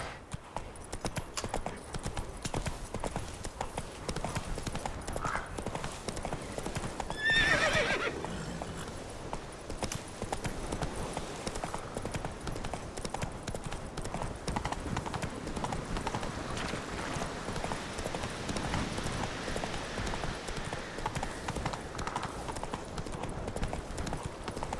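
Roach, a horse in The Witcher 3, gallops with steady clip-clop hoofbeats that carry throughout, a whinny cutting in near the middle amid busy battle ambience at Kaer Morhen.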